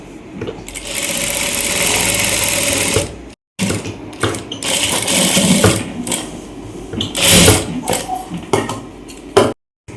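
A sewing machine stitches a pocket onto a night gown in quick, rhythmic mechanical bursts, stopping briefly twice and starting again, loud and close.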